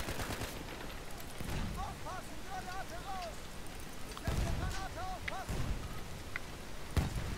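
Gunfire in the World War I shooter Battlefield 1 during a multiplayer match, scattered shots and bursts at moderate distance mixed with game effects, with someone talking over much of it.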